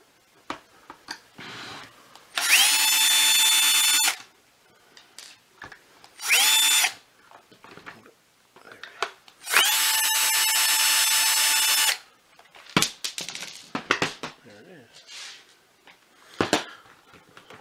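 A power screwdriver whirs in several bursts of one to two seconds while removing screws from the power nozzle of a Shark DuoClean PowerFins IZ300UK vacuum. Clicks and handling taps of plastic parts fall between the bursts.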